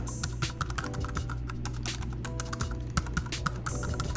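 Close, quiet clatter of fingers typing on a computer keyboard, with steady rapid keystrokes and occasional sharper taps over a low background hum.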